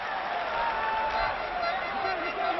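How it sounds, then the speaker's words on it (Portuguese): Football supporters applaud inside a stadium during a Sport Recife match, a broad, continuous crowd roar of distant clapping and cheering that runs under an excited commentator's voice. "E arrancando aplausos do torcedor do Esporte."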